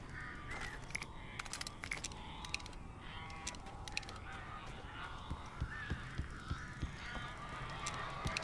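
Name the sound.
birds squawking in Alan Wake video game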